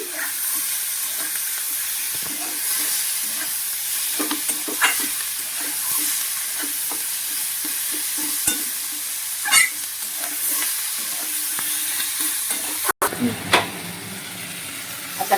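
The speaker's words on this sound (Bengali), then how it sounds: "এবার ভালো করে এটা ভেজে নিচ্ছি" Steady sizzling of onions frying in a pan, with occasional scraping stirs and a brief clatter near the end; continuous hiss throughout.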